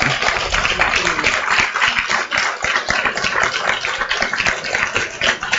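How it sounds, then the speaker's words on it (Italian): Audience applause for Peppino at the fourth Città di Olbia literary prize award ceremony, a steady dense patter of many hands clapping, sustained and fairly close, with no pause throughout. "Questo applauso è tutto per te"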